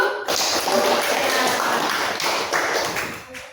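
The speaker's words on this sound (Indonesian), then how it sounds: "Kita beri tepuk tangan dulu" Classroom group clapping hands together, a dense, loud burst of claps lasting a few seconds before trailing off, no talk over it.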